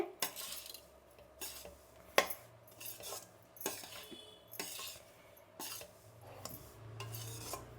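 Semolina and grated coconut for rava laddu are stirred in a pan, giving irregular scraping clinks and taps of a spoon against metal, moderately close and with no talk.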